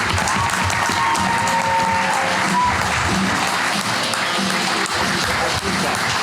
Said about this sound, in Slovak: Prosím, obřím potleskem přivítat naprosto úžasného Dana Martince.